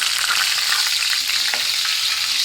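Curry leaves and green chilies frying in hot oil in a pan, a loud, continuous crackling sizzle close up, with a brief stir in the middle.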